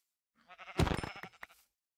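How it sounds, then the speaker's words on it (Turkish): Sheep bleating in the Minecraft video game, one clear close bleat of about a second with a short trailing note, alone with no talk. "Niye koyun spawn olmuyor hiç?"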